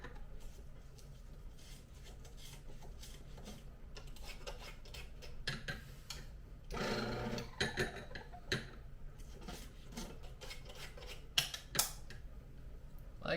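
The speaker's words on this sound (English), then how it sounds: "And now I've purged the grinder and it's ready for the new beans." Coffee grinder purging old beans before fresh ones go in, a dense run of dry ticking and crackling rattles with a brief louder grinding surge midway and a few sharp clicks near the end.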